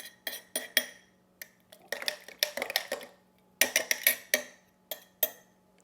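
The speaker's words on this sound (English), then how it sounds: "Stir it up good." A utensil stirs thick non-dairy yogurt in a bowl, giving bursts of clinking, scraping strokes against the dish, close and fairly quiet, with short pauses between rounds of stirring.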